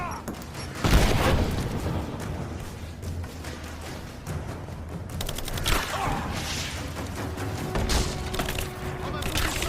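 Rise of the Tomb Raider combat: a grenade blast and bursts of gunfire, with rumbling booms and rattling shots over a steady game background, while a voice talks over the action.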